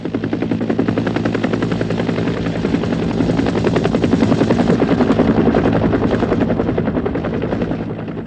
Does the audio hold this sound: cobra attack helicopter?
yes